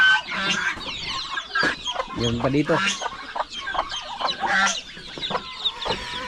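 Hens and chicks cluck and peep in a farmyard flock, dense overlapping calls close by, while someone speaks briefly over them.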